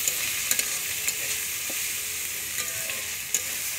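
Food in a frying pan is stirred under a steady, even sizzle, with a few scattered light scraping clicks from the utensil. The sound is close, and no one speaks.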